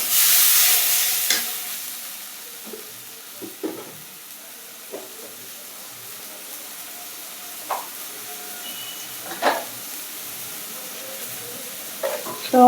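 Rohu fish curry with potatoes cooking in a pan after a splash of water, hissing and steaming at first, then a low simmering sizzle broken by occasional scraping stirs, close by with no talk.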